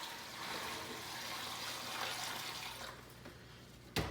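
Brine water pours steadily into a container over a turkey, a continuous close splashing rush that eases off near the end, with a brief sharp knock at the finish.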